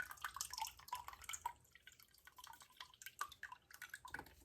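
Water drains and drips from a soaked potted acacia cutting, giving a faint, steady patter of small drops close by with no talking.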